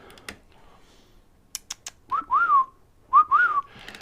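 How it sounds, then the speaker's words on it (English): Pet birds in a room give two short bursts of sliding whistled calls after a few scattered clicks and taps, fairly close and moderately loud, with no talking. "Hello birdies, you little birds okay?"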